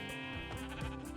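A Minecraft sheep lets out a single wavering bleat, fairly quiet and close, over a faint game background with no talk.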